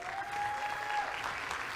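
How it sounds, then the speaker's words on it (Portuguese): Audience applause at a Mesa Tendências 2022 talk, a short, even patter of clapping from a crowd with no voices over it. "Uma salva de palmas para eles."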